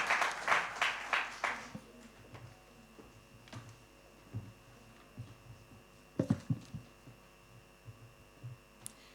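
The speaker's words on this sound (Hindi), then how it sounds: "तो एक बार जोरदार तालियों से स्वागत करते हैं मान्या का।" An audience at a Hindi youth event applauds a student coming up to speak, with a dense burst of clapping that fades within two seconds. Steady electrical hum and scattered ticks and knocks follow.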